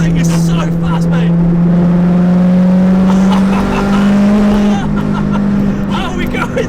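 A turbocharged 420 bhp Honda Civic Type R EP3 accelerating hard, its loud engine tone climbing steadily through the revs, heard from inside the car with voices present.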